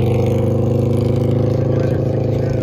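A steady, loud motorcycle engine drone holds a constant high pitch throughout, close by, running hard at wide open throttle during a race.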